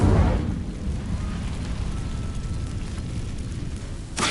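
The Incendio fire spell is cast in Hogwarts Legacy, starting with a loud fiery whoosh and burst, then fading into a steady low roar of flames that rises again briefly at the end.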